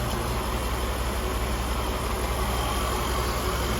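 A 1992 Cadillac Sedan Deville's 4.9-liter engine idles steadily, a constant low hum and rumble with faint high whine, no talking over it.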